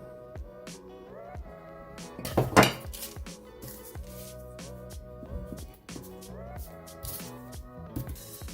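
A knife cuts a round dessert base for a French Nutella dessert against a plate, with scattered clinks and scrapes and one louder sharp clatter early on, heard faintly over background music.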